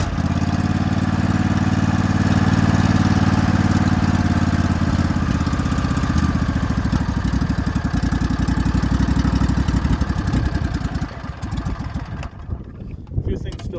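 A Craftsman GT lawn tractor fitted with a Briggs & Stratton V-twin engine runs close by with a loud, steady, rumbling drone. The sound roughens and drops away near the end.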